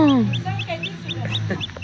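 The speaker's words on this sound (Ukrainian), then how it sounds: "Іди курчаток подивишся, Жень, давай бігом." Small birds cheep in quick, high repeated peeps, close by, over a low background hum, with a brief sliding call at the start.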